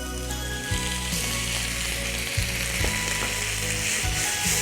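Lamb pieces seasoned with salt and chilli vinegar fry with vegetables in a hot pan, giving a steady loud sizzle with repeated low thumps and scrapes of stirring throughout.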